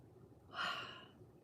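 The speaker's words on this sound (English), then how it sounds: "I'm gonna yawn." A single drawn-out, breathy yawn swells and fades over about half a second, close and fairly quiet, with no talking.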